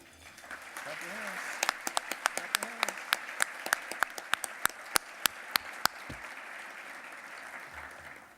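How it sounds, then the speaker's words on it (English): Audience applause at a charity luncheon, a soft crowd clapping wash with sharp, closer individual claps standing out in a rapid rhythm, plus a brief voice early on, then dying away into quiet room tone. "please join me now in a round of applause"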